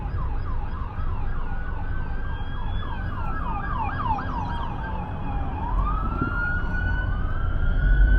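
A police car siren wails through a street in Los Angeles, its rapid rising-and-falling yelp shifting to a long sweeping wail as it passes, loud over steady traffic rumble.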